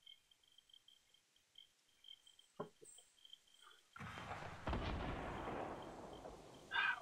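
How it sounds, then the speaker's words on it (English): Explosions in the video game Fortnite: a few faint, distant thumps early on, then a sustained, rumbling blast of noise takes over in the second half and stays heavy to the end. "All those explosions."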